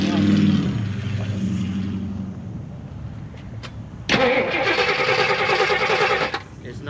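1978 AMC Jeep Cherokee engine being started: a grinding crank that gives way to a loud, close engine catching and idling roughly, with a person speaking early on.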